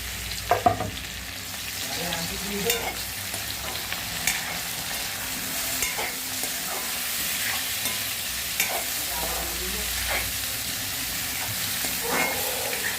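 Chopped tomatoes fry for egg biryani, a steady close sizzle in a pan under occasional scraping stirs and light utensil clinks, with no one talking.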